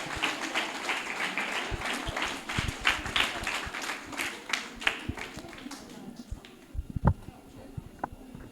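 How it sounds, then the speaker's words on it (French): A school audience at an end-of-year ceremony claps in a dense, steady burst of applause for the director, fading into scattered claps, with voices murmuring underneath. "Applaudissez notre cher directeur"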